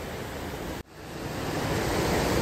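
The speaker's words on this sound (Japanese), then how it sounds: "沢を流れる水の音がすごい気持ちいいです。" A clear mountain stream rushes steadily in a ravine in Shimane, Japan, making a loud, constant broadband flow that briefly cuts out and then returns.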